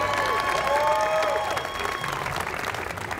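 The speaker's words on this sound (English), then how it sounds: "Go ahead and cheer, A&T." Crowd at an outdoor agricultural rally clapping and cheering steadily, a dense wash of applause with a few raised voices throughout.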